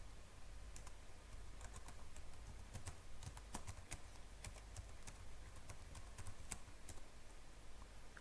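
Rapid, irregular clicking of keys on a computer keyboard, quiet and continuous, with soft taps spread across the whole stretch.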